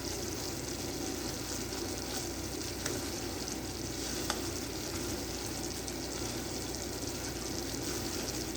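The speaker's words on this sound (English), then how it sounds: "So we're just going to kind of keep a steady stir" A peanut butter cookie mixture with oatmeal and pecans cooks in a pot on the stove, giving a steady, continuous sizzling hiss with faint scraping for the whole stretch and no talking.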